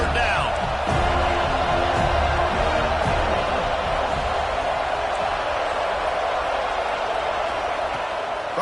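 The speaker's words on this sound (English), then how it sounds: "Decibels rising as the crowd gets behind this defense on third down." A college football stadium crowd roars loudly on third down during an FSU versus Clemson game, a dense sustained wall of cheering and noise with a few sharp bangs early on.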